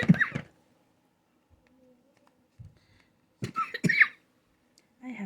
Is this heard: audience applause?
no